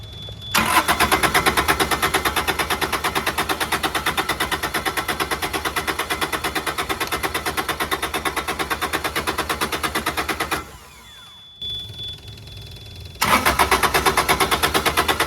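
A Kubota D722 diesel engine on a truck reefer unit cranks in a long, rapid, rhythmic churn close up, pauses briefly, then resumes the loud repetitive cranking.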